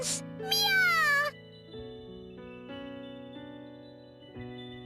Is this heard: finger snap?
no